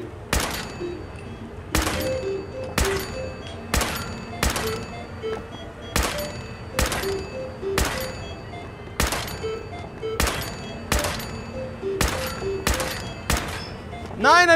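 Gunshots from the Nuka-Cade shooting gallery in the Fallout 4 video game crack out sharply, about thirteen evenly spaced shots at roughly one per second, each one loud, close and short.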